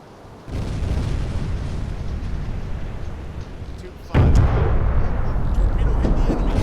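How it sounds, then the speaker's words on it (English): A heavy torpedo explosion strikes an enemy ship in the submarine game UBoat, with a low rumbling roar that begins abruptly and then a second, louder boom that swells and keeps roaring steadily. "Torpedo hit the enemy."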